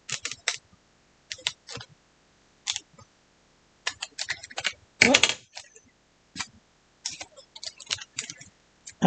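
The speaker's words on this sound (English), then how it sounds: "just trim inside the seal line" Scissors snipping through a paperless laminate bookmark, trimming just inside the seal line: short crisp cuts in irregular bursts, close and fairly loud, with one harsher louder snip near the middle and quiet gaps between.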